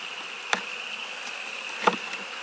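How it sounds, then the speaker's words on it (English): Italian honey bees buzz around a hive in spring, a steady faint drone with a couple of brief louder passes as individual bees fly close by. "she is an Italian bee for sure"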